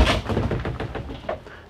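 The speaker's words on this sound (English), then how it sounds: "this bedroom closes up with double doors on it" Double doors on a bedroom inside a 2010 Rexhall Airbus 310 RV close with a pair of close, hollow thunks and knocks, followed by lighter taps as they settle.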